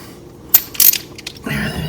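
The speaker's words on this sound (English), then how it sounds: "I'm going to take this bolt back out" Metallic clicks and a short ratcheting burst as a steering column bolt is loosened on a 2013 Toyota Avalon, close and fairly loud, followed by a softer rustle of handling.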